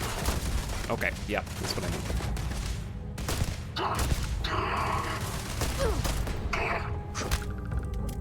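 Gunfire in the space game Starfield comes as dense volleys and rapid bursts over a steady mechanical background, loud and close, while a player talks over the shooting.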